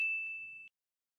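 A single bright notification bell ding rings clearly and sustains with a clean tone before stopping abruptly.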